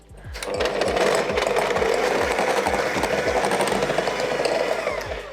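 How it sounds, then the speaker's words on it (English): An electric mixer runs steadily at high speed, beating unsalted butter with a continuous whirring motor hum and rapid rhythmic knocking, loud and close, with no voices. "I'm going to beat my butter on a high speed"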